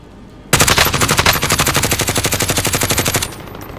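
Automatic gunfire in Call of Duty Warzone: a sharp onset followed by a long, steady rattle of rapid rounds lasting nearly three seconds, loud and close, then cutting off abruptly.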